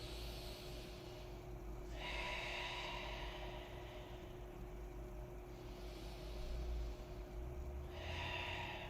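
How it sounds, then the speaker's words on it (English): Two slow, deep breaths are drawn in a quiet room during a functional flow exercise class. Each is a soft, airy whoosh, faint against a low background hum. "Give yourself 2 deep breaths here."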